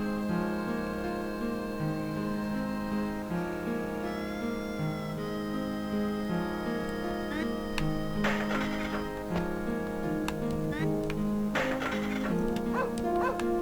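A dog barks in the retro video game Wild Arms, giving a few short yips and bow-wows over steady looping game music.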